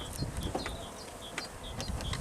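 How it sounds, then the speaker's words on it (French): Young honeybees buzzing around an opened, weak hive during a first spring inspection with a smoker, a steady close insect drone with brief higher buzzes of individual bees passing near, no talk. "ce sont des jeunes abeilles"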